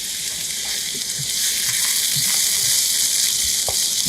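Onion and yellow capsicum sizzle steadily in a frying pan, a loud, even hiss of hot oil with occasional soft stirring clicks and no talking.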